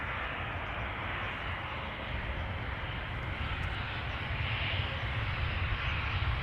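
An Embraer 190 airliner flying for KLM arrives at Amsterdam Schiphol Airport, its jet engines a loud, steady broadband roar that swells slightly as it passes close by.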